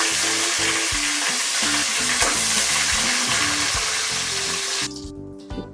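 Dried red chillies and curry leaves frying in hot oil with urad dal and cinnamon for a spicy crab masala, a loud steady sizzle with stirring clatter that drops sharply near the end.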